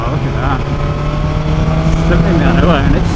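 A BMW S1000XR motorcycle accelerates hard on a full-throttle roll-on from about 40 mph in sixth gear. The engine drone stays steady, with rising pitch sweeps and wind rush throughout.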